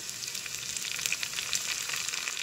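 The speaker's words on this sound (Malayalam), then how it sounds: "കുറച്ച് കറിവേപ്പിലയും കൂടി ഇടാം" Curry leaves fry with green chilli and onion for an inji pachadi, making a faint, steady sizzle with light crackles and no voices.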